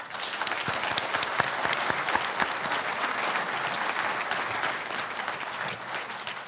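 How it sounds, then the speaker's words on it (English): Sustained applause from a civic audience at a Medicine Hat State of the City event, many hands clapping steadily at moderate distance for several seconds without speech. "the candidates and yourself deserve a big round of applause for that one"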